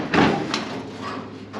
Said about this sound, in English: I'll open my door here.